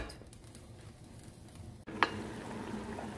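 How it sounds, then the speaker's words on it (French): Meat sautéing gently over low heat with chickpeas, spices and herbs in a pot for cardoon couscous, a soft steady sizzle with one sharp utensil clink partway through. "je vais faire revenir la viande avec tous ces ingrédients sur un feu doux, environ 10 minutes"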